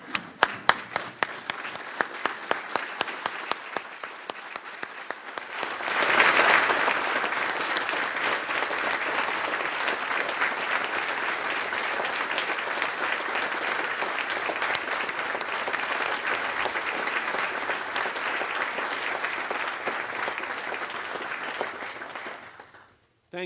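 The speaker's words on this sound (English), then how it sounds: "share with me a round of applause to the persons inducted as founders of this university today" At a university Founders' Day ceremony, a few scattered claps grow into loud, sustained applause from a large standing audience that holds steady for many seconds before fading out.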